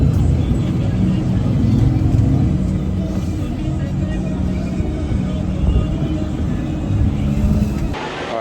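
A loud, continuous low rumble of engine and road noise fills the inside of a moving bus, droning steadily with faint murmurs of voices beneath it.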